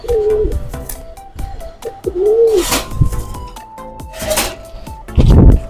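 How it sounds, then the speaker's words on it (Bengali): Pet pigeons coo in repeated rolling bursts, close and clear, with short pauses and soft wing or foot shuffles between calls. "আর যে এখানে কবুতরটা খুব সুন্দর,"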